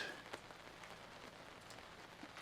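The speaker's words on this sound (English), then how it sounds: "it is raining. It's coming down pretty good, as you can hear." Steady rain falling outdoors beside a cooking fire, a soft continuous hiss of drops hitting surfaces, fairly faint and even throughout.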